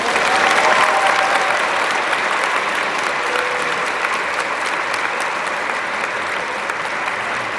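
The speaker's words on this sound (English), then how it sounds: "Can we get another round of applause" A crowd claps loudly and continuously for nearly eight seconds at a Relay for Life luminaria ceremony. The applause is dense and sustained and tapers only slightly toward the end.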